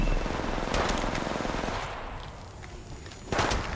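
Sustained automatic gunfire from the Apex Legends Mobile video game, a dense rattling burst running through most of the stretch, easing midway before a loud fresh volley near the end.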